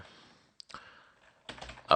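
Typing on a computer keyboard, a few scattered close key clicks followed by a quick cluster of taps, fairly quiet, with someone talking between them.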